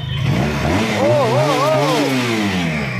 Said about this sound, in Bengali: আচ্ছা বাইকটা বন্ধ করে স্টার্ট দেখেন সাউন্ড।